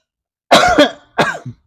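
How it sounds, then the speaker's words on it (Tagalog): A few close coughs in quick succession, a heavy double cough followed by a shorter, rougher one, with silence around them. "Ubo na tuloy tayo"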